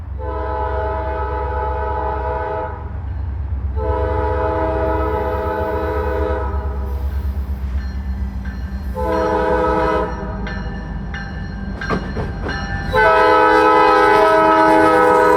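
A freight train hauled by ex-Southern and NS locomotives climbs the mountain loops at slow speed toward Asheville, with loud repeated horn blasts over a deep steady diesel rumble, heard close and alone.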